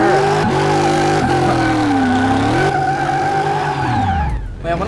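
A V8 swapped into a Honda S2000 in Car Mechanic Simulator 2018 roars loudly and continuously, its pitch shifting with revs before dropping away sharply near the end.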